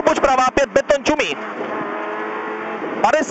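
Rally car on a closed special stage at the 40th Invelt Rally Pačejov 2019, RZ7 Čečelovice, engine droning loudly and steadily from onboard, with a co-driver's pace-note calls in bursts at the start and end.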